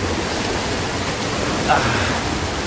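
Steady broadband rush of water at Curug Dua Undak, a two-tiered jungle waterfall reached by trekking, filling the whole clip as a close, constant roar with a brief splash-like burst partway through.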